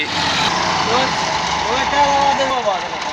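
A tractor engine roars steadily during a tractor race, a loud continuous drone with rising and falling tones as it works, under someone commentating.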